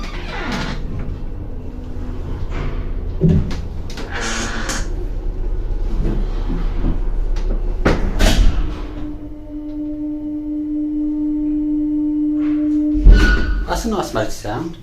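An elevator motor hums steadily from about 8 to 13 seconds as a sustained low drone, preceded by door clunks and rattles and followed by more clattering, with people talking nearby.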